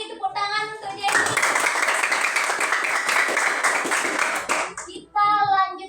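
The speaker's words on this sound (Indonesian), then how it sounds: "Tepuk tangan untuk Jenny." A class claps for a student named Jenny, a burst of close, bright hand clapping lasting about four seconds, with a teacher's voice speaking briefly before and after.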